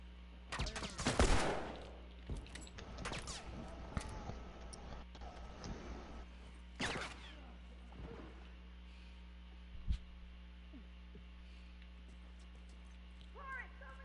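A few rifle shots ring out in a game firefight: one loud close burst early, another sharp shot around the middle, with faint clicks and low background hum in between.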